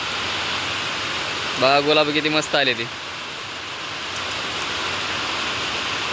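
Heavy early-morning rain falls over a village in a constant, dense hiss, with a person speaking briefly partway through.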